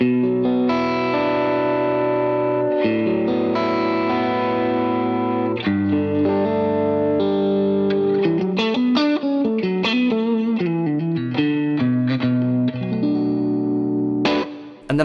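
Electric guitar played through a Walrus Double Dreamer overdrive pedal set for edge-of-breakup tone, sustained distorted chords followed by a run of choppier picked notes and riffs, loud and close, with no voices.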